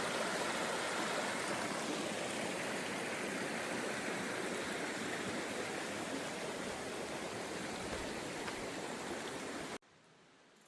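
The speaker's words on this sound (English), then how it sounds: "Hear the water flowing?" Steady broadband rush of water flowing in a creek called Swan River along the Colorado Trail in the Colorado mountains, close and continuous for about ten seconds, then cutting off abruptly near the end.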